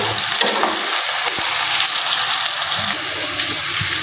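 Ginger-garlic paste fries in a pan with a dense, steady sizzle close by, broken by a few faint stirring clinks and no talk.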